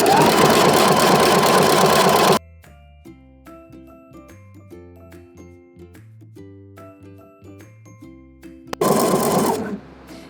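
A sewing machine stitches a thrifted blanket into a sweater, buzzing loudly and steadily at the start and again in a short burst near the end, with soft tonal music in the gap between.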